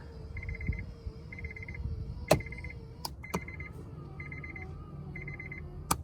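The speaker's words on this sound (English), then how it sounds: "Is the beeping getting on your guys' nerves yet?" A 1997 Honda Accord's warning chime beeps in regular short bursts, repeating steadily at low volume, with a few sharp clicks and knocks in between.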